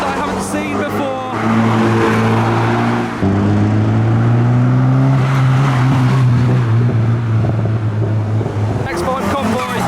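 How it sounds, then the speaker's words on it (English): A convoy of Mazda MX-5 roadsters, some boosted or supercharged, leaving a Japanese car meet in Reading. Loud, close engine drones shift pitch as several cars drive past in succession, with a brief quieter gap between them. "MX-5 convoy."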